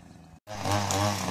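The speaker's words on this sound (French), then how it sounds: "Du coup, elle est en plein débroussaillage." A brush cutter clears undergrowth, its high-revving engine whining loudly and steadily close by after a brief cut-out at the start.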